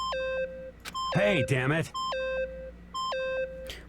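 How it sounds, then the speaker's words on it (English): A video game character's dialogue in Danganronpa plays as repeated electronic beeps, short bursts of bleeps sounding in a regular rhythm while someone shouts over one stretch in the middle. "stop that beeping and say something"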